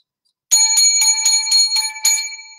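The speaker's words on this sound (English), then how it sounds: "Seven lucky bells" Seven bright bell rings in a quick, even sequence, loud and close, following a moment of silence.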